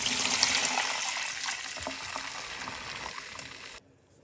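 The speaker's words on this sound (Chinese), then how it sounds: "鸡蛋煎好了，加入水，" Water pours into a hot pan of fried eggs, a loud rushing hiss that starts strong, gradually eases, then cuts off abruptly into near quiet.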